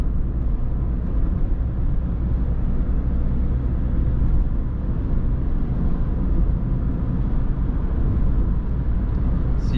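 A VW Polo V 1.6 TDI 90 HP with a 7-speed DSG gearbox cruising at highway speed, a steady low engine drone with road and wind roar, continuous and unchanging from inside the car.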